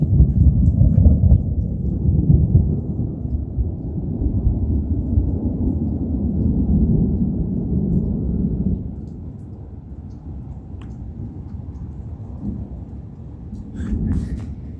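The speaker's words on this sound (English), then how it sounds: "Oh my goodness, there's just a lot of lightning strikes happening all in this little area." Deep thunder rolls and rumbles continuously through a morning rainstorm, loud and sustained at first and then easing to a lower, steadier growl with rain underneath.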